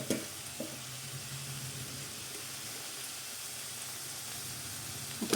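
A spoonful of ghee meets chicken ghee roast in a hot pan, producing a steady, dense sizzle that holds close and even throughout, with a faint clink near the start.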